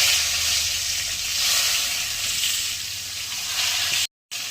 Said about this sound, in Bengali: বেগুনগুলো ভেজে নিচ্ছি, লবণ হলুদ মাখিয়ে নিয়েছিলাম।